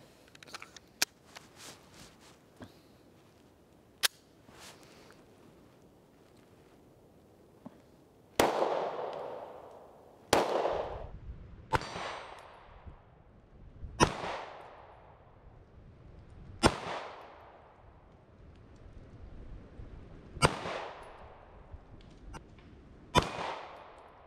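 Pistol shots from a Kimber R7 Mako fired at a range; sharp, loud single reports spaced a second or two apart, preceded by lighter clicks and handling noise.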